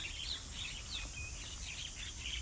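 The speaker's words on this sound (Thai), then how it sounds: "จะมีเสียงนกร้อง" Birds sing in the evening countryside on a Thai farm plot, with repeated small high chirps and tweets over a steady background of wind and rural ambience, and no talking.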